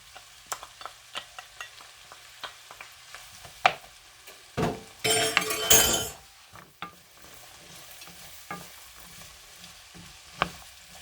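Mushrooms fry in a wide pan for bolognaise, a soft sizzle under scattered clinks and taps, with one brief louder burst of stirring and sizzling midway.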